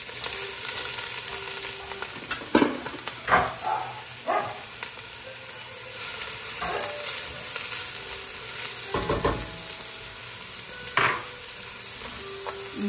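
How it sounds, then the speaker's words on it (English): Chopped onions sauteing in a hot pan for a lasagna ragu, with a steady close sizzle broken by occasional scrapes and clatters of stirring. "now we're going to saute our onions"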